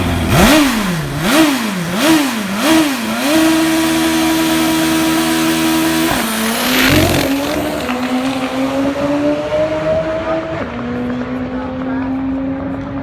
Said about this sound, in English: let's watch Pete Steuri make a pass on this machine that won the 1992 AMA Pro Star Championship